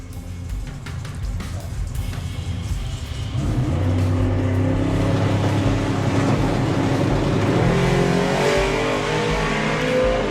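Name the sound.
drag racing Volvo and Chevy Bel Air cars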